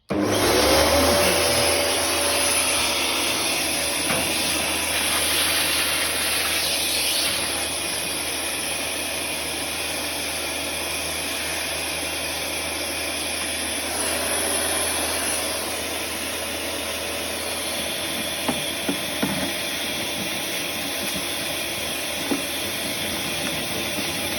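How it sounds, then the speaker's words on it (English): A Panasonic vacuum cleaner motor whirs up and runs steadily with a loud, constant roaring hiss and a high whine, close by, with a few faint knocks near the end. "I found a Hoover. Sorry, a vacuum cleaner."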